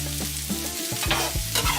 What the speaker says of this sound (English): Caramelizing the onions.